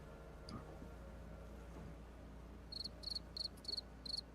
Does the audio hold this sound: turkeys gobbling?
no